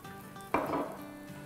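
A paratha roasting on a hot griddle gives a sudden sizzling hiss that swells sharply and then fades to a soft, steady crackle, close and quiet with no talking.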